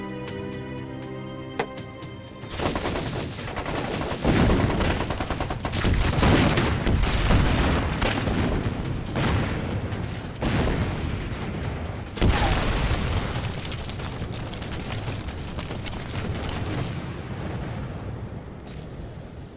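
Bombing explosions and heavy gunfire from a war film battle scene, a dense, loud, continuous roar of blasts and rumbling booms with sharper bursts throughout, no speech.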